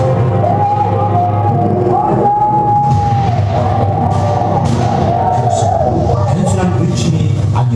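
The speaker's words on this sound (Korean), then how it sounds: "만세의 함성" Dense crowd shouting and cheering manse in unison, commemorating the March 1st 1919 independence movement; loud, sustained massed voices with rising calls, close and continuous throughout.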